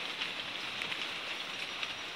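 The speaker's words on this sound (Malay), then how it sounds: "Masih hujan lagi dekat luar." Light drizzle falls steadily outside a rest house at night, a soft, even hiss of fine rain with tiny scattered drops tapping, faint and continuous with no voices.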